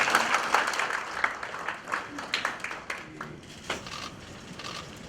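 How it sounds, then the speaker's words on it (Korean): Audience members at a welfare policy forum applaud as the Gyeonggi governor is introduced, giving steady, moderately loud clapping with many overlapping hands that runs throughout and eases slightly toward the end. "큰 박수 부탁드립니다"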